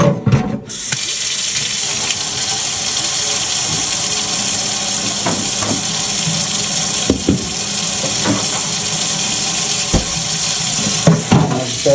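Cold water runs steadily from a kitchen tap into a sink or basin, filling an ice bath, a continuous close rush with a few faint clinks and knocks over it.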